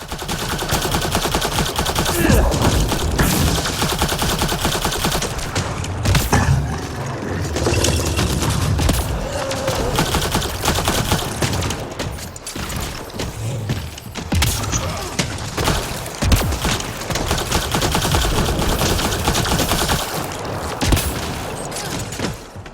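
Gunfire from a shooter in the video game Mass Effect Andromeda, dense and continuous with rapid bursts mixed into steady combat noise and effects, loud throughout.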